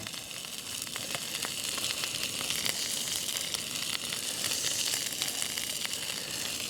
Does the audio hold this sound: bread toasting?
yes